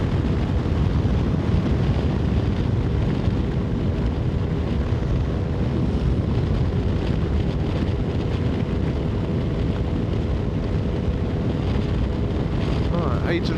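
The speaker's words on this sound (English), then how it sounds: "Whoa, that wind is a killer." Strong wind buffets a microphone outdoors, a loud, constant low roar that fills the whole clip without letting up.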